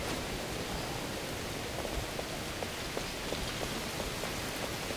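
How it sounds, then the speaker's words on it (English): Steady rain falls in the video game Edge of Twilight, a constant hiss with faint scattered drop ticks throughout and no speech. "Why is it raining?"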